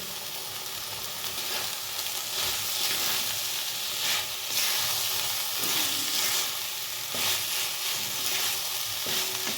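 Sliced capsicum frying and being stirred in a hot pan with no water added: a steady, dense sizzle runs throughout, with louder bursts of crackle and scraping as the pieces are turned.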